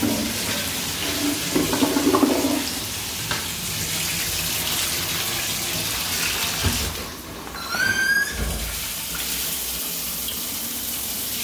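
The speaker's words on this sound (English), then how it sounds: "Shower works." A shower runs in a house bathroom during a functional check, a steady close hiss of falling water that shifts in tone partway through, with a few brief squeaky handle or fixture sounds.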